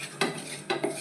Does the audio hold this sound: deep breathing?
no